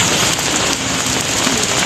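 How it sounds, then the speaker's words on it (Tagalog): Heavy rain pours steadily onto a surface nearby, a dense, loud hiss with no pauses. "Sobrang lakas ng ulan na naman"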